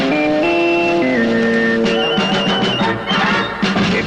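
Short radio sports signature jingle from a CBS station, a bright electronic melody of sustained tones stepping between pitches, a few seconds long and heard clearly with no voice over it.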